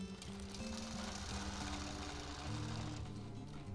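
A sewing machine runs steadily while free-motion quilting fabric over a minky backing, a continuous loud mechanical hum with constant stitching rhythm throughout, no pauses or voices.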